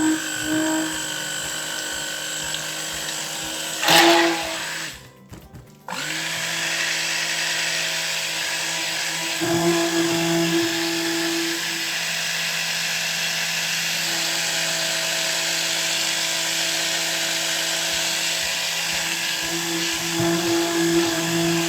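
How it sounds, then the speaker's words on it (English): Stick blender mixing kaolin clay into soap oils, a steady high whirring motor hum with a brief burst and a short pause near the start, then continuous blending. "I'm going to mix in after I plug in my stick blender. I'm gonna mix in my Kaolin Clay"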